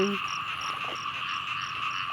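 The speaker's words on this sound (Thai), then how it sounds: "เสียงกบก็มีนะพี่น้อง" Frogs croak in a steady chorus in a rainy Thai rice paddy, repeated short pulsing calls over a constant buzzing insect-like drone, fairly distant and even.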